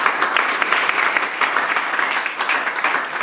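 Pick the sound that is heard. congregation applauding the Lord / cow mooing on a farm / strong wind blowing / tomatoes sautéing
congregation applauding the Lord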